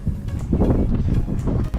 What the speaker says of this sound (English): Today is a little bit windy, as you can hear